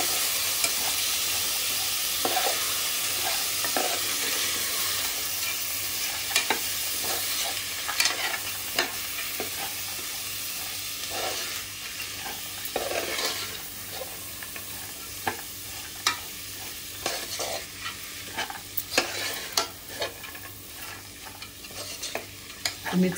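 Raw chickpeas fry in a pan and are stirred continuously, giving a steady sizzle with repeated scraping and rattling for over twenty seconds.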